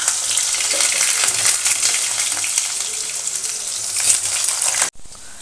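Large pieces of potato fry in hot spiced oil, a loud, dense, close sizzle with stirring that cuts off abruptly near the end.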